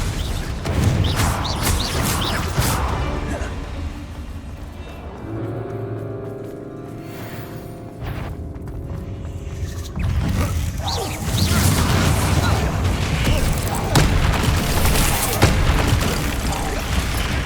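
Confringo, an explosion spell, is cast during combat in a Harry Potter video game, giving loud booming blasts over a dense bed of game music and effects, with a quieter lull before the action builds again.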